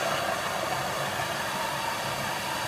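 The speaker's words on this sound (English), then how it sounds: "How about if we just use map gas? I'll use my torch and get it nice and hot" MAP gas torch heating a steel box end wrench, a steady, loud roaring hiss of flame that continues unbroken throughout.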